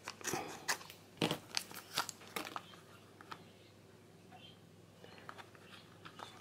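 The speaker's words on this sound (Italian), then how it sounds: "Prendiamo le forbici perché..." Scissors snip and crunch through packaging while jewellery clasps are unboxed, a series of sharp close cuts and crinkles early on, then quieter rustling.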